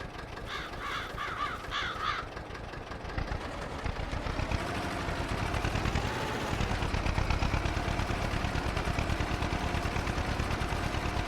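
Farming Simulator 22 tractor pulling a seeder to sow wheat: a steady, droning engine rumble running throughout, with crow caws over it in the first couple of seconds.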